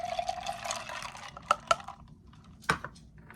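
Apple juice is poured into a chai base in a short steady stream, followed by a few sharp knocks and clinks of a glass or container set down nearby.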